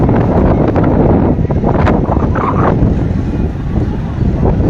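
Strong, gusty wind buffets the microphone on a third-floor hotel rooftop in Taunsa Sharif as storm clouds gather, a loud constant roar with someone speaking underneath.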